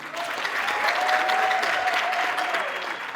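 Sustained crowd applause, loud and even across the whole stretch, with a thin steady whistle-like tone running through the middle and faint voices under the clapping.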